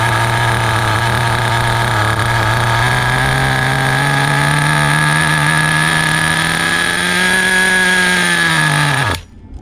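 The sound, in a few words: HPI RS4 nitro RC car engine idling, fuel line pinched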